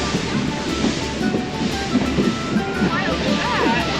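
The Harry Potter steam train departs in Scotland, heard as a continuous rumbling roll with rhythmic clatter and wind buffeting close to the microphone, without clear speech.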